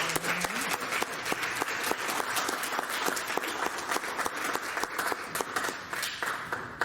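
An audience at a constitutional amendments workshop gives a steady, full round of applause for the panelists, sustained and fairly close throughout.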